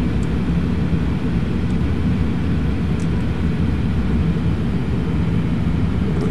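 A STOL plane sits on the runway in Flight Simulator X, its engine producing a steady, loud, continuous low rumble that holds even throughout, with no talking over it.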